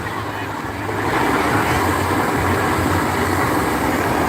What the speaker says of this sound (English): I can hear the water just pouring over there.